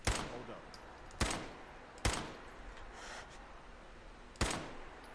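Gunfire in the Fallout 4 video game: four loud, booming single shots spaced a second or two apart, each with a short decaying tail over a steady background hiss.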